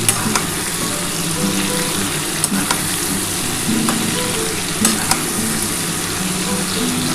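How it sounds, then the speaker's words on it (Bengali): Onions and black cumin fry in a pan with a continuous crackling sizzle, marked by occasional sharp ticks and scrapes from stirring. "এটা ভালো করে একটু ভেজে নিতে হবে"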